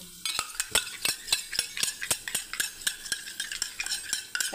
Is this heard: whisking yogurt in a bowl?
yes